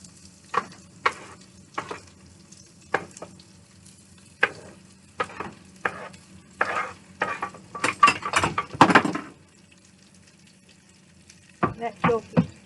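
Sliced sausages sizzle in a skillet in quiet bursts, with repeated clinks and scrapes of a utensil stirring against the pan, a louder clatter near the end.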